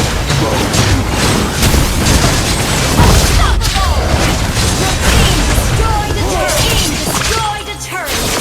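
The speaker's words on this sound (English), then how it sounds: "Destroyed a turret!" A turret is blown apart in the Mobile Legends game, a heavy boom among constant loud battle effects, hits and crashes, with a game announcer voice over the busy mix.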